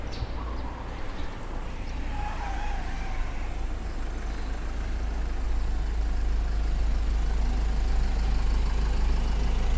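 An Isuzu pickup idles and rumbles steadily with a low engine drone as it is driven down off a car-carrier trailer, heard at moderate distance outdoors with faint background noise.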